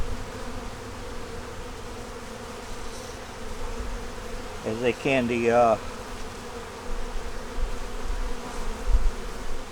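Honey bees hum around an opened hive, a low, steady drone that runs throughout. A person speaks briefly over it partway through.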